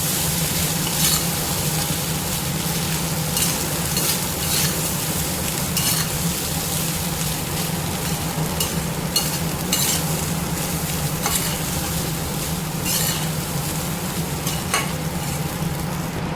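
Rice with capsicum, egg and carrot is stirred steadily in a pan on low heat, with a continuous soft sizzle and repeated scraping and clinks of the spoon against the pan, close and even throughout.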